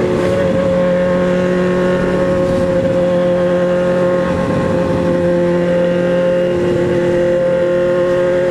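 A steady, loud engine drone with sustained tonal hum, like motorcycles, including a white Honda Hornet, riding along together, constant throughout with no pauses.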